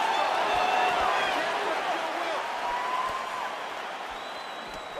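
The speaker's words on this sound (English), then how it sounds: "You hear this crowd just eating out of his hand, oohing and on every time he advances." Arena crowd noise in the video game UFC 4 during an Adesanya versus Cirkunov fight, a dense, sustained murmur and roar of spectators with faint reactions, steady and moderately distant.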